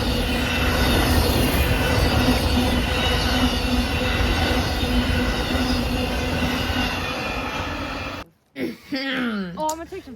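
A freight train rolls past at Folkston, Georgia, a loud, close, continuous rumble of wheels and rail clatter for about eight seconds before cutting off, followed by a brief voice speaking.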